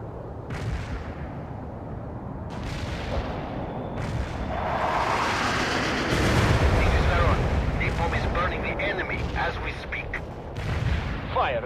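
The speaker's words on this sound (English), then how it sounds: "Firing mortars. The barrage will reach you soon." A mortar barrage in the video game World in Conflict sends repeated heavy booms and blasts, some near and some distant, swelling into dense rumbling fire, with radio-style voices talking over it.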